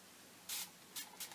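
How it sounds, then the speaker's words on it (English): Short hissing bursts of a spray bottle misting, three quick squirts close by, the first longer, in a quiet room. "I'm just going to give everything kind of a fine spray of water."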